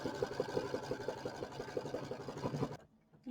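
A sewing machine stitches the top of fabric earmuffs in a fast, even run of close mechanical clacks that goes on for nearly three seconds, then stops suddenly, leaving near silence.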